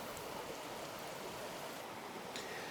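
River water flows steadily in a continuous broadband rush while snow fungus is rinsed in it outdoors on a Hawaiian hike, with a brief splash near the end and no talking.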